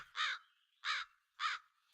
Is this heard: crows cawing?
yes